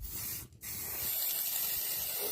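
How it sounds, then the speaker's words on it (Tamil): A continuous close hiss of aerosol spray paint on a waste oil burner, briefly interrupted by a short pause before spraying resumes steadily. "ஃபுல்லாக வந்து பெயிண்ட் பண்ணி எடுத்துக்கலாம்"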